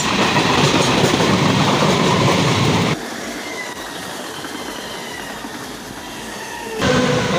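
A fast train rushes past in Thane, Mumbai, loud and close with steady rumbling and clatter, easing briefly in the middle before swelling again.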